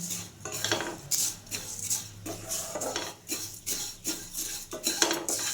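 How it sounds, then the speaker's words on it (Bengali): Vermicelli is stirred as it dry-fries in a pan over a low flame. A spoon scrapes and clinks against the metal in a quiet, regular rhythm of repeated strokes. "দেখুন সুন্দরভাবে আমি নেড়ে চেড়ে তিন চার মিনিট মতো সিমুইটা ফ্রাই করে নিলাম"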